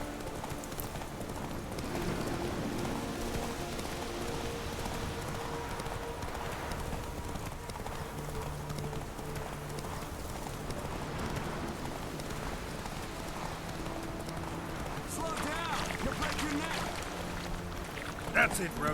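Hooves of Geralt's horse Roach clip-clop steadily in the Witcher 3: Wild Hunt game, a continuous rhythmic trot under someone talking over the gameplay, with faint ambient game sounds around it.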